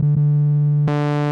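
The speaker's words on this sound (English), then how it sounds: "Here's your waveforms, you got your sine wave," A Korg MS-10 synthesizer holds a steady, loud tone with a rich harmonic stack and a brief dip near the start, then brightens sharply with added buzz near the end as the waveform changes.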